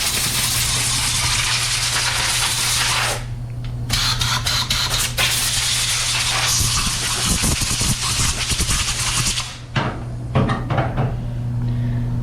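A new 3M Performance paint spray gun sprays in a steady, loud broadband hiss over a constant compressor-like hum, with a short pause and brief clicks midway before spraying resumes.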